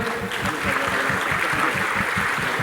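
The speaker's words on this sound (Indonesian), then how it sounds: "Tepuk tangan buat teman-teman STIK boleh?" Audience applause for police academy (STIK) students at a televised Indonesian police event, a steady sustained clapping wash with broadband texture and a low rhythmic pulse underneath, moderately loud throughout.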